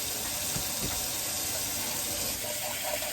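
Hot water pours steadily into a soup pot holding two bouillon cubes, a continuous close splashing rush with no speech over it.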